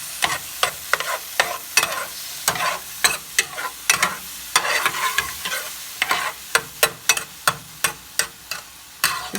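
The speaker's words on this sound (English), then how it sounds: "mix this in here. And I stir it" A pot of Haitian djon-djon black rice is stirred vigorously, a rapid series of sharp spoon scrapes and clacks against the pot over a soft frying sizzle, close and fairly loud.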